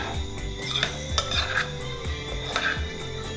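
A spoon scrapes and clinks steadily against a bowl while sweet potato, avocado and plantain salsa with lime juice is stirred, a close run of rhythmic metallic taps.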